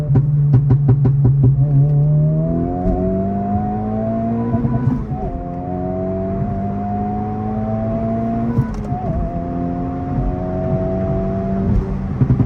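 A Honda Civic Type R FL5 with a PRL turbo inlet pipe, heard from inside: the engine blips on a downshift, then pulls hard with rising revs through two gear changes, loud and close.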